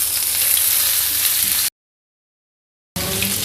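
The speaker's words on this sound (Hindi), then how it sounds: "अब इसमें मैं डाल दूंगी ये 1/4 कप चॉप की हुई प्याज" Chopped onion fries in hot oil in a pan, giving a close, steady sizzle that cuts out completely for over a second and then resumes.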